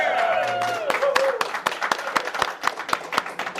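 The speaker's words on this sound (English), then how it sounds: "So that's the only reason why you saw some applause" Audience applause in a packed room, a burst of claps that starts under a lingering voice and thins into scattered individual claps.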